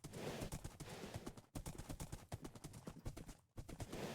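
Horse hooves in a Minecraft modpack clip-clop in a quick, steady rhythm, close and clear, with brief pauses between runs of hoofbeats.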